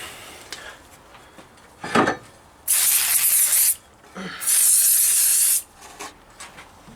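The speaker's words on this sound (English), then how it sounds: "There's actually carb spray, not brake cleaner, but degreaser." Carb spray degreaser sprayed onto the rear brakes of a Rover P6 V8, two sustained bursts of loud, close hissing, each about a second long, with light metallic handling sounds between them.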